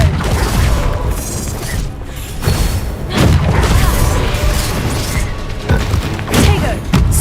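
Spell blasts from Bombarda and Incendio cast in the Hogwarts Legacy video game, a loud, dense run of booming impacts and crashing bursts with repeated thuds, continuing almost without pause.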